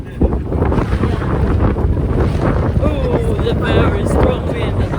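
Strong wind buffets the microphone at a beach on a cold morning, a steady loud roar with gusty rumble throughout, and faint voices and surf underneath.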